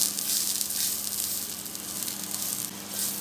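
Star margarine sizzling on a hot frying pan, a loud, steady hiss with crackly fluctuations lasting throughout, close up and without speech.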